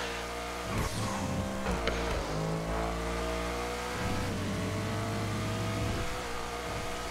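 A GTA car's engine revs and shifts on a real-world race track ported into the game, climbing and dropping in pitch through several gear changes, loud and close, with no talking.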